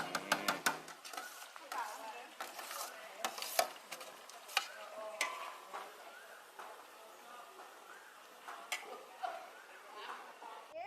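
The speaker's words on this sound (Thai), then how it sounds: "เอาหอมแดงตักลงใส่ในกระทะ น้ำมันร้อนๆนะครับ" Sliced shallots frying in hot oil in a wok, a steady close sizzle with scraping stirs and sharp utensil clinks against the pan, with someone talking intermittently over the cooking.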